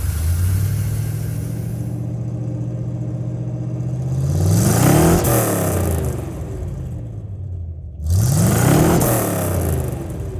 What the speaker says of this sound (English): The result is immediate acceleration and very good performance for such a massive truck.